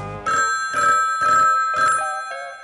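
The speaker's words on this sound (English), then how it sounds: "when the phone rang like this" A telephone bell rings in four loud, evenly spaced bursts with short silences between, followed by a fainter partial ring, close and with no voices over it.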